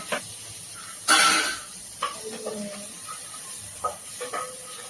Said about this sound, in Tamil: இந்த பொரியுது